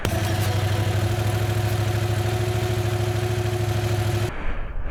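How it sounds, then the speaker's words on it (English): A motorcycle engine idles through its stock exhaust with a deep, throbbing low rumble, close and loud, then cuts off abruptly near the end. "a video of the stock exhaust as well"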